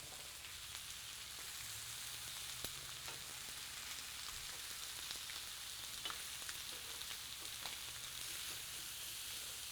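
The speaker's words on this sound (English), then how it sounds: "I'm glad you can hear the chicken sizzling." Steady, crackling sizzle of chicken frying in a hot pan, continuous and close, with occasional louder pops and no talking.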